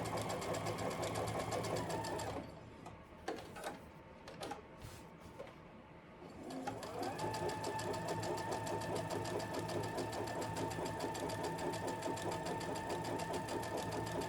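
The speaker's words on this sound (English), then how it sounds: "I'm just going to sew close to the edge." Sewing machine stitching close to the edge of a fabric face mask made from clothing, a steady fast whirring drone that halts briefly for a few seconds with small handling clicks, then resumes and runs steadily, close and alone.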